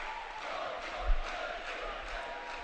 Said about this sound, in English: Crowd really starting to pick up the noise level here.